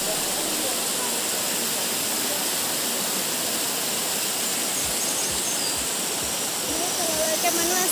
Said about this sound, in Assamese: এটা ধুমা হয় আৰু এইফালে নিজৰ পানী বৈ গৈ আছে।